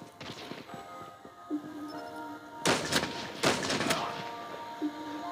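Two sharp, loud sniper rifle blasts with a ringing tail, spaced about a second apart, over a low Call of Duty game background with small clicks and thuds.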